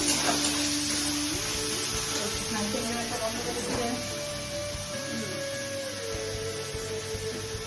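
Prawn curry masala sautés in a hot pan with a steady, even sizzle and hiss throughout, while a spoon stirs it with occasional scrapes. A voice speaks faintly underneath.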